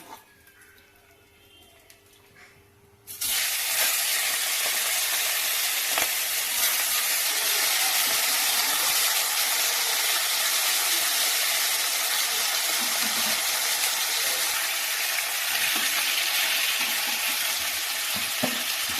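Hilsa fish pieces drop into hot oil in a pan, and after a few quiet seconds a loud, continuous sizzle and hiss bursts out and holds steady to the end.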